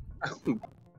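A single close sneeze from a person at the microphone during a German-language playthrough of a video game, a short explosive burst that trails off quickly.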